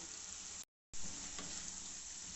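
Chicken and spices for white karahi frying in a pan, a steady close sizzle that cuts out briefly for a moment of silence and then resumes just as loud.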